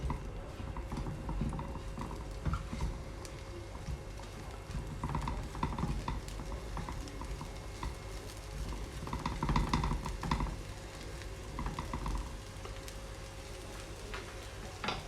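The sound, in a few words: stir-frying beef and broccoli in a pan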